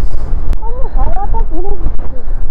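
Strong wind buffets the microphone on an extreme off-road mountain trail between Jomsom and Muktinath in Mustang, a loud, gusty rumble that runs throughout beneath a person talking.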